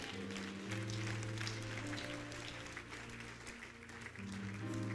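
Crowd at an outdoor prayer meeting at Uhuru Park clapping steadily in a dense, continuous wash, with a sustained musical tone underneath.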